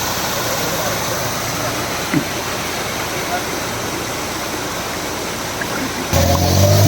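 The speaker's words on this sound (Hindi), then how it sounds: "ये खूबसूरत वाटरफॉल का नज़ारा आप देख रहे हैं" Malaach waterfall along Thandiani Road near Kuthwal, steady broadband rush of falling water that holds constant throughout, with a brief louder burst near the end.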